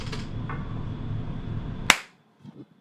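A single sharp hand clap cuts through background noise and ends abruptly, followed by near silence and faint movement sounds.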